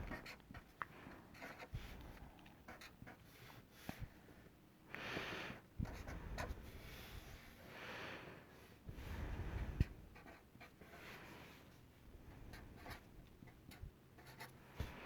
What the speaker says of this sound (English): I'm just going to go write them down real quick.